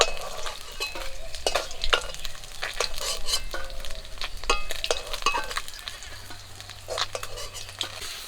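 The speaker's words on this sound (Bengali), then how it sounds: "বাকি মাছগুলো আমি ভেজে নেব" Sea fish sizzle steadily in hot oil in a frying pan, with scattered clinks and scrapes of stirring throughout, close and moderately loud.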